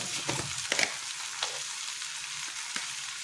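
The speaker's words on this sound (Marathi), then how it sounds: "मस्तपैकी आपली गवार टोमॅटो आणि कांदा व्यवस्थित फ्राय झाले।" Steady hiss of cluster beans, tomato and onion frying in a pan, with a few brief clinks and scrapes of a spoon stirring, no voices.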